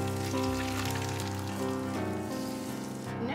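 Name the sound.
hot oil drizzled over fish sizzling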